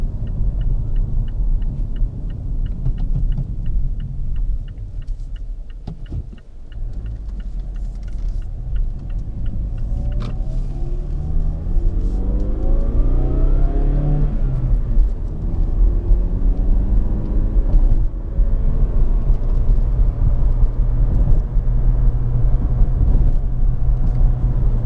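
A 2017/2018 Mazda 3 drives at night on quiet roads outside Fort Worth, Texas, with a steady low engine and road rumble heard from inside the cabin and a rising, falling engine note partway through.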